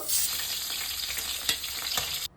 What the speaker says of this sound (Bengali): বাকি মাছগুলো এই তেলেতেই ভেজে নেব